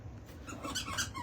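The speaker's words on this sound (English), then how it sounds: "come down with his squeaky toy and squeak it for everybody" A dog's squeaky toy gives a run of faint, high squeaks, squeezed repeatedly somewhere in the room with no talk over it.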